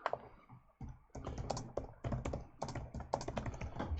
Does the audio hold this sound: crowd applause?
no